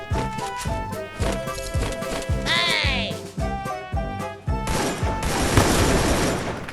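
Rapid bursts of automatic rifle fire in a first-person shooter game crack out in a rhythmic series of loud shots, with metallic ringing and a brief whooshing effect midway, ending in a denser, noisier volley.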